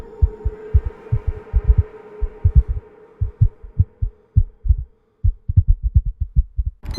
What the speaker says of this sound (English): woke up around 2 in the morning with his heart pounding